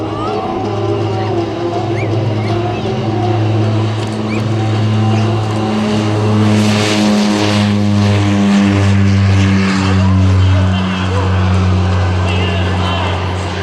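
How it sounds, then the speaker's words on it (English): A North American Rockwell OV-10 Bronco turboprop takes off at an air festival, its loud, droning propeller roar holding steady and close with shifting tones as it climbs, while a voice talks over it. "Now that is a real style takeoff."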